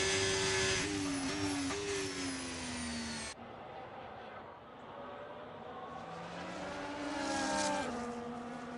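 Ferrari race car in a racing video game on the Miami track, its high engine whine rising and falling through gear changes, then cutting abruptly to a quieter car sound that swells again as it nears.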